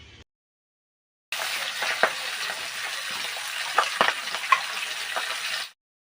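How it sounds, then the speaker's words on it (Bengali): Pabda fish frying in a little hot oil, a steady close sizzle lasting several seconds with occasional sharper pops and spatters, and no talk. "এবার আমি মাছগুলো ভাজা করব।"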